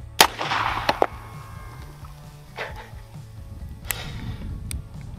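A Western revolver fires blank rounds, sharp cracks at irregular intervals with one strong report near the start and others following, each with a short ringing decay over a low background hum.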